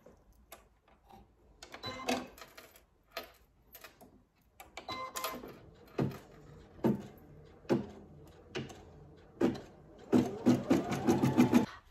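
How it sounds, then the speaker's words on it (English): A domestic sewing machine runs a tack down stitch to secure an applique piece of fabric for a baby lamb design, in short bursts of close mechanical whirring separated by pauses and handling clatter. "we're going to do the tack down stitch"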